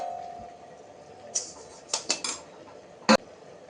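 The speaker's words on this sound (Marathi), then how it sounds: "आता याच्यावर थोडंसं झाकण ठेवून घेऊयात आपण" An iron kadhai gets its lid set down during Maharashtrian cooking, a few sharp metallic clinks and clatters close by against a quiet kitchen, with a final brighter clang near the end.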